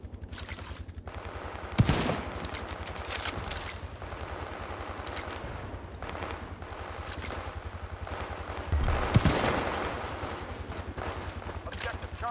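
Rifle fire in a World War 3 shooter game set in Moscow, with sharp shots at roughly two and nine seconds over a steady din of distant gunfire and battle noise, no voices.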